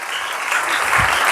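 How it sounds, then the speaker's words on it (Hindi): Loud applause rises from a congregation during a Sunday church service, a dense continuous clapping wash that swells slightly toward the end. "जोरदार तालियां।"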